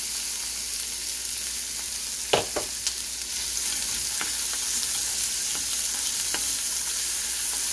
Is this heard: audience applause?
no